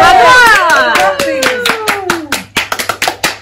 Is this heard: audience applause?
yes